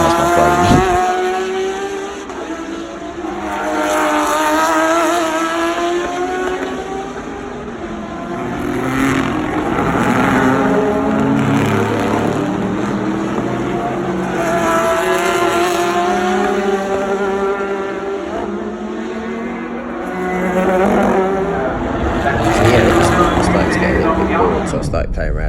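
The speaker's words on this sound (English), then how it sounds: "the Porsche, I don't know what it is about the engine, but it absolutely screams" Porsche race car engines scream around the Le Mans circuit during the 2019 race, high-pitched wails rising and falling as cars pass in repeated waves, loud and continuous, with a voice talking over them.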